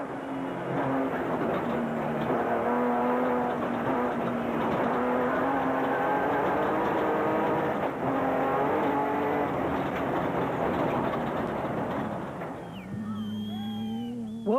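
Onboard engine of a South African Nissan race car during a desert endurance race, a loud, steady high-revving drone held for several seconds, then dropping in pitch near the end as it shifts and revs again.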